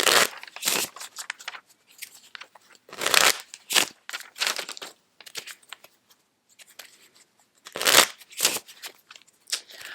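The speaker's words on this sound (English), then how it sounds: "shuffle for draw number 2" A deck of playing cards being shuffled by hand in several separate bursts of riffling and crisp flicking, close and fairly loud, with quiet gaps between shuffles.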